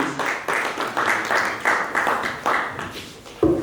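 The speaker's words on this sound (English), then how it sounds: "A round of applause, please" At a networking dinner, the audience gives a round of applause to welcome a speaker, heard as a scattered but rhythmic patter of hands, with clearer individual claps pulsing roughly every half second.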